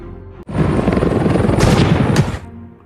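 Helicopter and gunfire in a megalodon shark film, a sudden loud burst of rotor thumping and rapid shots lasting about two seconds before cutting off, with no talking.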